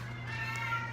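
A cat meows in the main cat room of a no-kill shelter, one sustained, fairly quiet tonal call over a steady low room hum.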